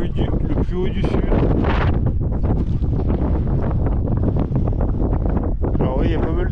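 Strong wind on a high mountain summit buffets the microphone in loud, continuous roaring gusts, with a voice talking over it throughout.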